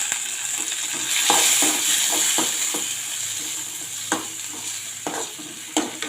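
Potato gravy ingredients sauté in a pan with salt added. A spatula stirs and scrapes in repeated close strokes over a continuous sizzle, and there is no talking.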